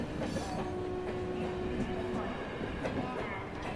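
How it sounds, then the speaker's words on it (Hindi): A passenger train rolls past nearby with a continuous heavy rumble and rhythmic wheel clatter, a thin metallic whine riding on top for a couple of seconds. "यही ट्रेन जाती है लखनऊ, हफ्ते में एक बार"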